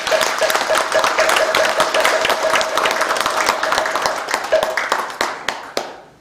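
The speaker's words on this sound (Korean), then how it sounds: "큰 박수 한번 부탁드립니다." Applause for graduates at the 38th graduation ceremony of a Korean Buddhist Taego Order college, a crowd clapping in a dense, lively burst that thins into scattered claps and fades out, with a faint voice underneath.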